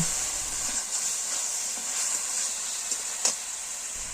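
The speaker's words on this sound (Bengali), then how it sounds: "টমেটোগুলো অনেকটাই কষানো হয়ে গেছে" Tomatoes sautéing in a pan for a village-style tomato and date chutney, a steady hissing sizzle with occasional stirring knocks, no talk.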